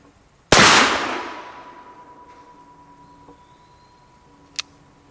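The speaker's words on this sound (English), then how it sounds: "I shot about a foot underneath him and I went a little bit low" A single loud, sharp gunshot from an Uberti 1860 Army revolver, fired outdoors, followed by a long decaying echo and a faint distant metallic ring from the target, then a small click.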